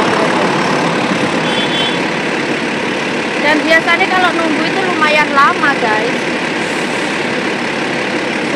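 A large bus idles at a Hong Kong bus stop with a steady low diesel rumble, heard under someone talking nearby.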